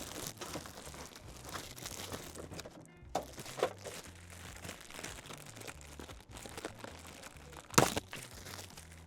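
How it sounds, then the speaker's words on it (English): Crinkly plastic packaging of a new Subaru cabin air filter being opened, close rustling and crumpling with a sharp tearing crackle near the end. "now we'll delight you with some package opening ASMR"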